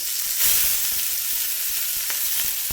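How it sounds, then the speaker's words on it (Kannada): Curry leaves hit hot oil with golden-browned urad dal for a coconut chutney tempering, giving a loud, bright, continuous sizzle with quick crackling pops throughout. "ಕರ್ಬೇವಿನ ಸೊಪ್ಪು ಹಾಕ್ತಾ ಇದ್ದೀನಿ"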